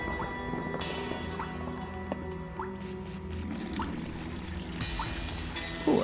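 Water drips and trickles in a game scene of The Devilry Reservation 2 as water is collected, a few soft drips over a low ambient hum with tonal game sounds.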